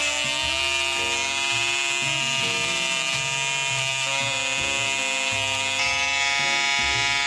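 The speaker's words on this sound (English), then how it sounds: "This time we're gonna try it with the clippers." Electric hair clippers cut hair in a steady, loud, continuous buzz with a harmonic whine, running close and unbroken throughout, with slight changes in tone as the blades move through the hair.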